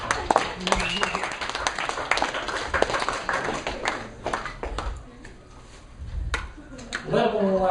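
A round of applause at a school vacuum science demonstration: scattered claps ring out under and around talk, thinning midway before a brief louder burst near the end.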